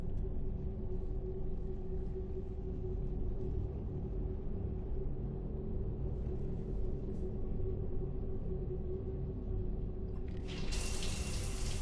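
Shower water runs steadily in the video game Mass Effect, a continuous hiss over a low rumble that stays constant throughout, with a brighter burst of spray near the end.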